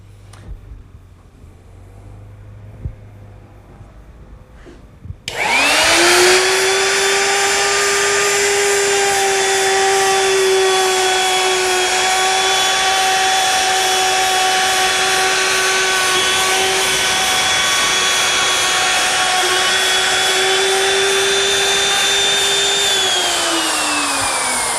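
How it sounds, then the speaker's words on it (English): A router cuts into a wooden door. After about five seconds of quiet handling noise, the motor spins up to a loud, close, high whine and holds it steadily while cutting, with no speech. "that's going to allow my router to go just a little deeper and finish this"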